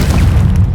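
A Confringo spell blast from Hogwarts Legacy, a short, loud, booming burst of explosive energy that fills the brief moment with a dense low rumble.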